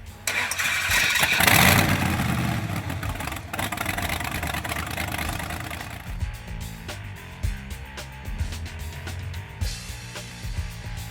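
A 1958 Buick Caballero wagon street rod cranks and fires with a loud, close roar, then settles into a lumpy, rumbling idle with uneven pulses.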